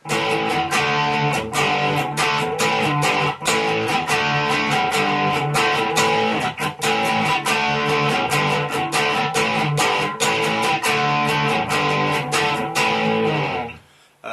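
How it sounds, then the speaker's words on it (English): Distorted electric guitar power chords strummed in a driving rhythm, loud and continuous, with choppy muted strokes between them, ending abruptly. "I'm going to show you how to play power chords"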